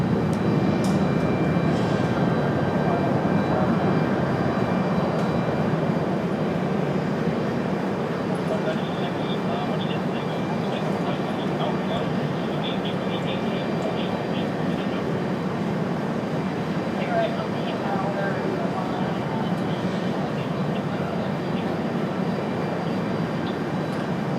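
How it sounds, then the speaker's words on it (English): Jet airliners at Raleigh-Durham International Airport, including a JetBlue jet, taxi and depart: a loud, continuous engine roar and whine holds for the whole stretch, steady and dense, with broadband rumble underneath. "We've got JetBlue on the move for departure."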